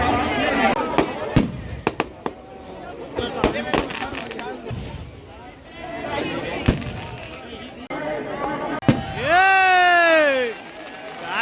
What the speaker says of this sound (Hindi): अब फाइनली अब जो है पटाखा जो है फूटने वाला है। आतिशबाजी जो है होने वाला है